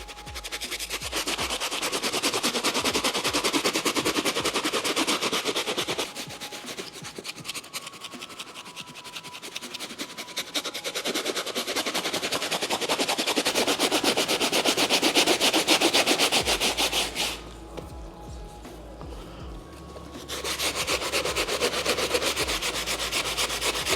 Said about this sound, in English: Give the upper a hit with the medium bristle.